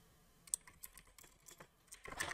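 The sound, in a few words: typing a command on a computer keyboard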